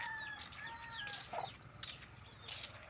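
Ducks in a farm duckery, heard at a moderate distance as a mix of rapid clucking, squawking calls and brief wing flaps over a steady outdoor background.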